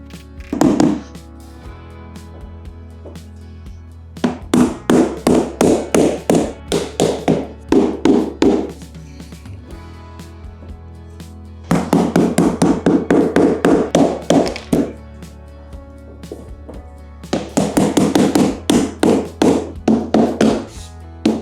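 Flooring planks are tapped into place while building a backyard studio, bursts of rapid, close, sharp taps in four clusters separated by pauses.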